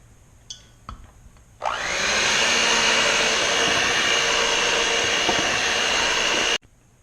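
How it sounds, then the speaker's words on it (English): An electric mixer works steamed bun dough, starting abruptly and then running as a steady, loud, close whirring drone for about five seconds before cutting off. "So I'm going to start mixing it using an electric mixer."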